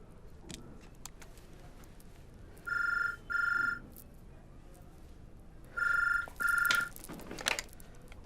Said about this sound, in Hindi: आपका फोन जी।